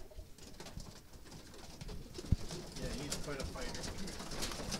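Racing pigeons coo softly in their loft, a steady murmur of overlapping calls with faint rustling and a sharp knock, under light background noise.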